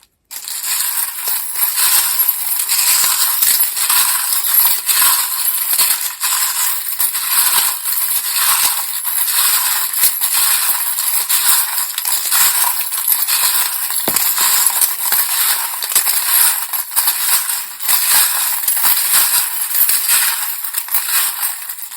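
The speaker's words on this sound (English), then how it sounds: "If you don't like the sound of the charms, please turn down your volume now" Tarot charms and dice shuffled and tumbling together, a loud, dense, continuous clatter and rattle of small hard pieces lasting over twenty seconds, close up and without speech.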